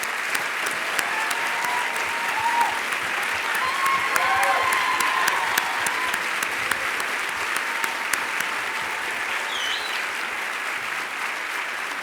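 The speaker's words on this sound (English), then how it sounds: "Join me in a round of applause," Sustained audience applause fills a large commencement hall, a dense, even roar of many clapping hands lasting the whole stretch, with faint voices and a few whoops mixed in.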